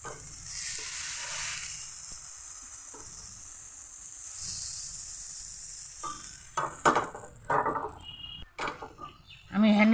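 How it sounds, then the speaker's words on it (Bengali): Patishapta batter poured onto a hot, oil-brushed tawa, giving a steady sizzle across the start, then clinks and scraping of cookware with brief bursts of louder clatter toward the end. "কাপ দিয়ে কিন্তু আমি ব্যাটারটাকে দিয়ে দিচ্ছি"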